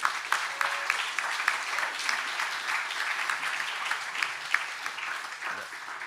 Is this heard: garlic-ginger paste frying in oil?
no